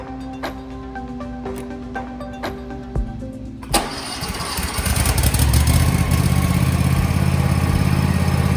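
An Ariens Zenith zero-turn lawn mower engine starts: a few starter clicks and low mechanical ticking, then the engine catches and settles into a steady, loud running rumble close by.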